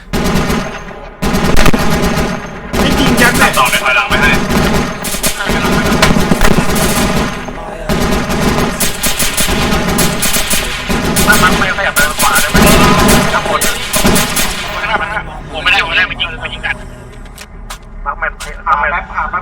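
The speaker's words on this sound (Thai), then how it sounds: "ยิงโคตรแม่นเลยนะ" Dense, loud bursts of automatic gunfire and heavy weapon fire crackle in the Arma 3 military simulation game, nearly continuous with some pauses, while a player talks excitedly over the shooting.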